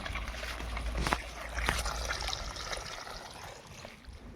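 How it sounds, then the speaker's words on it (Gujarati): Water from a motor pump pipe runs steadily into an onion field, a soft continuous trickling flow with a couple of brief clicks near the start. "થઈ ગઈ મોટર ચાલુ પાણી આવી ગયું"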